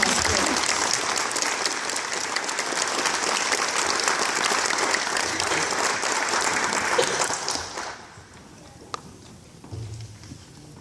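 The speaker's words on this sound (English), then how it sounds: "Go ahead and give them a big round of applause" Sustained applause from a crowd at a sixth grade promotion ceremony, dense and steady for about eight seconds before dying away into a quiet room with a few scattered claps.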